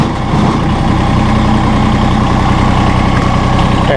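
A Massey Ferguson GC1723E or GC1725M sub-compact tractor engine runs at a steady, loud, close idle throughout while its loader is lowered, with no voices.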